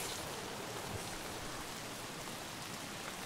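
Rain in Escape from Tarkov, a steady dense hiss of falling drops that stays even and continuous throughout, with no voices.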